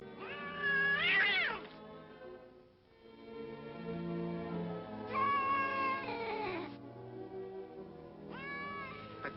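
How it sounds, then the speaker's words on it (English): A cat meows in distress, several drawn-out, wavering cries in three bursts with quieter stretches between, set against a dramatic orchestral-style background. "they can hear the cat in some kind of distress"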